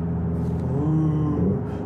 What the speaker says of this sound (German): diese ganzen Verbrenner-like Features. So das Schalten, das Motorgeräusch.